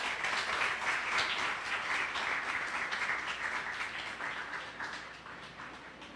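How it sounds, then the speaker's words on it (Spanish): Congregation clapping loudly during a church sermon, a full, continuous wash of many hands that stays strong before gradually softening toward the end. "Denle un aplauso fuerte al Señor"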